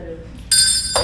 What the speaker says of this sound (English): So I have a bell.